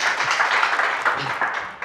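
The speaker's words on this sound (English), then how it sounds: "Give him a round of applause." Studio audience applause breaks out for a guest's lap time on a South African car show, a dense, steady wash of clapping across the whole stretch with a little talk mixed in.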